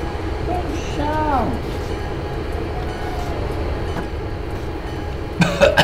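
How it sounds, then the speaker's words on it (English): Slow freight train rumbling along in Train Simulator 2013, a steady low mechanical drone throughout, with a squealing wheel or brake sweep early on and a sharper clatter at the end. "this train just can't be any slower"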